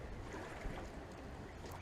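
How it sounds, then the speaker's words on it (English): A motorboat engine runs steadily on the water, a continuous low rumble and churn with wind and water noise mixed in, close and even throughout. "Just to charge the engine up, probably."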